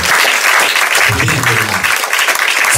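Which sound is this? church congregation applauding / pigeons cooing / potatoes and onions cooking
church congregation applauding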